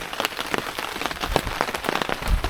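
Heavy rain pours outdoors during a Norway bushcraft camp, a dense, steady patter of drops hitting nearby surfaces, close and loud, with sharper splats scattered throughout and no voices.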